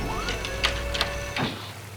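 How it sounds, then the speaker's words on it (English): Cartoon rain falls as a steady patter throughout, with a few brighter droplet accents and a faint whistling tone, in an animated scene with a purple poodle dragster. "It starts to rain"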